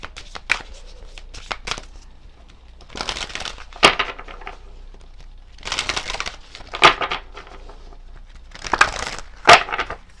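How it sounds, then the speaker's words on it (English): Hands shuffle a deck of tarot or oracle cards in several distinct bursts of crisp riffling and snapping, close up and clear, separated by short pauses. "I'm going to shuffle with this deck."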